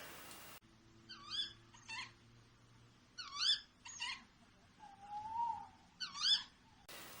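Tawny owl calling in a British woodland at night, a few sharp, rising kewick-type calls repeated in short bursts with a longer hooting note between them, fairly distant and faint over quiet background.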